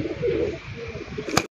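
A pigeon coos softly and close by, a low murmuring call lasting about a second, ending with a brief sharp click.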